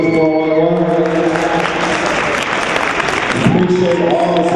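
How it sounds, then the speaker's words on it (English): A crowd at a speech event claps in sustained, dense applause, with voices and some sustained tones mixed in. "Give them a round of applause."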